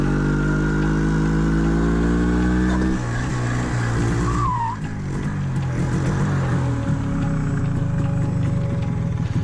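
A vintage MZ two-stroke motorcycle engine runs loud and close on an alpine pass ride, with a buzzing tone that shifts in pitch as it revs and drops, steady and unbroken.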